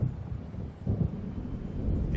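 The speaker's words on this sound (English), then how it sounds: "It seems there's a storm coming." Low, rolling thunder from an approaching storm in the video game Alan Wake rumbles steadily and fairly loud, a deep continuous roar with no voices over it.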